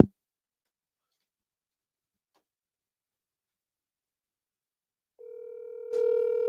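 A phone call being placed: near silence for several seconds, then a steady electronic call tone starts and grows fuller near the end.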